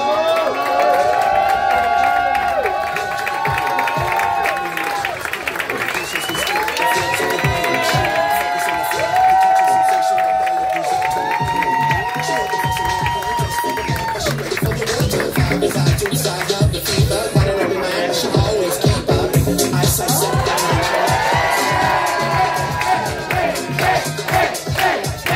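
A crowd at the grand final of a drag improvisation contest claps, cheers and whoops loudly for a long stretch. Shouts and calls rise and fall over continuous clapping.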